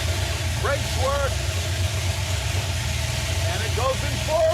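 The Stubby Bob car's engine runs at a steady, close, low idle throughout, with a few short squeaky chirps over the rumble.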